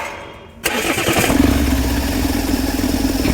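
A Mahindra Scorpio BS6 pickup diesel engine with a P0047 turbo fault cranks briefly, then catches and settles into a loud, steady idle close by.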